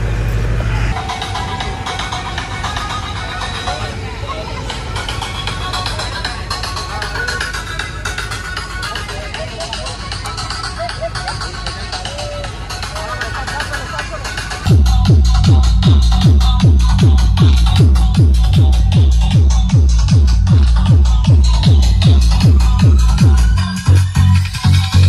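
A DJ roadshow loudspeaker rig being tested on a vehicle: a steady mix of engine and crowd noise, then a loud, heavy rhythmic bass thumping that kicks in partway through and pounds evenly before briefly dropping near the end.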